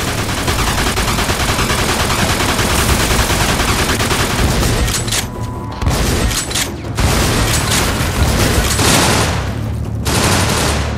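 Dense gunfire in the Mafia 2 video game, with sustained loud bursts of shots and booms filling the scene and only brief lulls between volleys.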